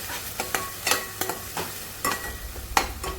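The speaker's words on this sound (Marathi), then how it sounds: "कांदा अजून चांगला फ्राय करून घेते कलर चेंज होईपर्यंत" Onions fry for chole gravy, with a spatula scraping and stirring through them in rhythmic strokes over a soft sizzle, close up and with no voices.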